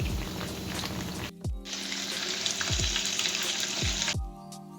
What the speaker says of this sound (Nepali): फ्राई हुँदैछ चिकन हो